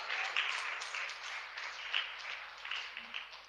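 Applause from a congregation at a Tamil church gathering, a moderate wash of hand clapping that carries steadily throughout, slightly distant and without speech over it.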